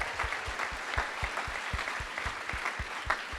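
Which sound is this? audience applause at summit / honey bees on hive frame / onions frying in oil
audience applause at summit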